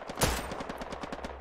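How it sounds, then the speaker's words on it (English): Machine gun firing in the WW2 video game Hell Let Loose, a rapid, evenly spaced burst of shots with one louder crack near the start, fairly close. "He is right where machine gun is firing right now."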